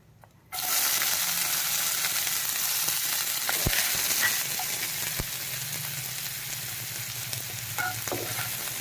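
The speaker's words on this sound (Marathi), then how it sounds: "आता कांदा घालून घेऊया" Onion dropped into hot oil with cumin seeds and curry leaves bursts into a loud, steady frying hiss that holds evenly, with a few faint stirring clicks.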